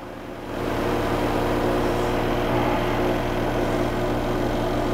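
Panda XPB36 compact washer's spinner starting up and running at about 1500 RPM, a steady low motor hum and whir that ramps up in the first half second and then holds evenly, fairly quiet and with no voices.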